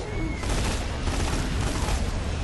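Dense rifle gunfire from the video game Borderlands 2, a continuous loud rattle of rapid shots across the whole moment with faint voice underneath.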